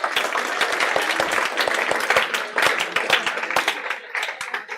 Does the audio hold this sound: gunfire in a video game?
no